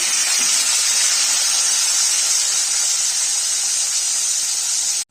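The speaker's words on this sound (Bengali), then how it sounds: "এবার পটলগুলো আমি কিছু কিছু করে ভেজে নেব" Pointed gourd (potol) pieces frying in hot oil in a kadai, a loud, steady, close hiss of sizzling that holds evenly throughout and cuts off abruptly at the end.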